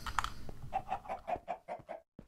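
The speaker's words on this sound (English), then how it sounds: "Hello, chickens." Chickens cluck in Minecraft, a quick run of about eight short, evenly spaced clucks close up and clear, with no voices over them.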